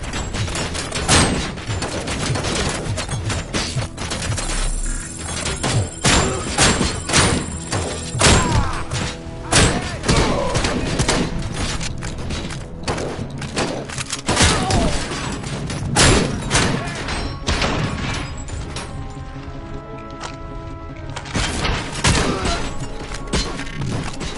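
Grenade blasts in the shooter Robocop Rogue City, heavy thuds and bursts crowding one another amid continuous gunfire and combat noise, loud and dense throughout with no pause.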